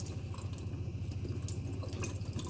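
Printer paper being soaked with water on both sides to line a wet palette, giving a steady close trickle and drip like running tap water splashing onto paper, continuous throughout with no talking.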